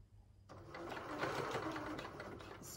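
Sewing machine running steadily, stitching the neck band onto a red knit dress, a continuous close whirring hum with a sharp click at the start.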